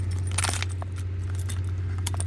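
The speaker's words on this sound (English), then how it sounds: "And I could even hook my keys right there." Metal keys jangle continuously as they are hung on a hook inside an overland camper truck, a close, bright clatter of small rattles over a steady low engine-like hum.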